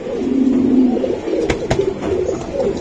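Large pigeons of fancy breeds held for sale cooing up close, a low throaty burbling that rolls on steadily with a couple of brief sharp knocks midway.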